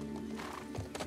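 A horse in the video game The Last of Us Part II snorts and clops faintly in the background, with low game ambience underneath.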